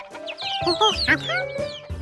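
Cartoon hens clucking in a hen house, a quick cluster of bright, warbling clucks over about two seconds, close and clear.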